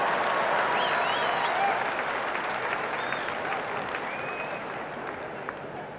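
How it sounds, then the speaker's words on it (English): A large Wimbledon crowd applauds the winner of the 1990 men's final, steady dense clapping and cheering that slowly fades, heard from within the stands. "And everybody standing here to acclaim the winner."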